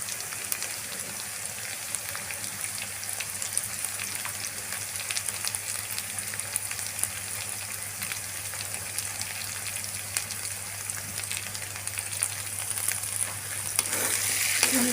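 Hilsa fish head with spices fries in a pan, giving a continuous, even crackling sizzle that holds steady throughout, with a low hum underneath and a brief clatter near the end; no voices.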